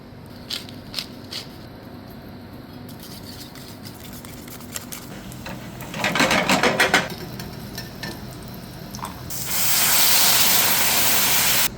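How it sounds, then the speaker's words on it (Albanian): Sujuk sausage sizzles in a frying pan, a steady close crackle and hiss that swells into a loud, dense spitting sizzle near the end. "Ndërkohë që suxhuku skuqet"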